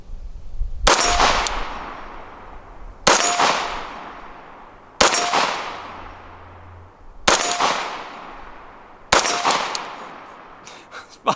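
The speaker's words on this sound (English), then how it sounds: "let's shut up and shoot right in the center mass" Five carbine rifle shots ring out one at a time at an even pace, each a sharp crack followed by a fading metallic ring from steel targets.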